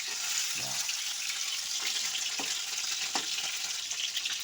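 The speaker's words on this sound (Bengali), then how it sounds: "আওয়াজখানা শুনছে ফট ফট করে আওয়াজ হচ্ছে মাছ ফুটছে ভাজা হচ্ছে" Lata fish frying in hot oil produces a constant close sizzle punctuated by several distinct pops and spits at irregular intervals, with no talking.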